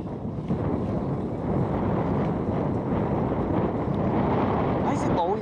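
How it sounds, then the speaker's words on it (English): Strong wind buffets the microphone in a constant roaring rush that lasts the whole time. "Wind really picked up."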